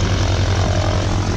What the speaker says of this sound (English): She flies this plane, which is a T-6 Texan.